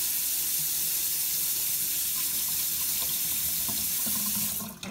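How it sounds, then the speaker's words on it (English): Hot water runs from a sink tap in a steady, close, hissing rush that stays even throughout and cuts off abruptly at the very end, with no voices. "in the sink, I'm going to run the water really hot just for a minute"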